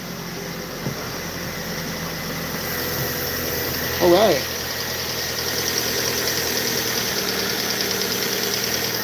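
Chevrolet Aveo5 car engine running at a steady idle, a continuous mid-pitched hum throughout with a brief louder burst midway, and a voice speaking briefly near the start.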